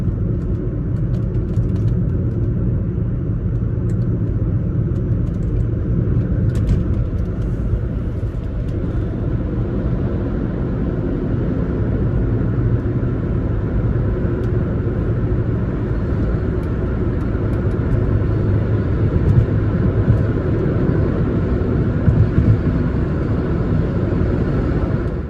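A Volkswagen car converted to electric drive cruises along, a continuous loud road and drivetrain rumble with a faint motor whine and no clear engine revving through the gear change.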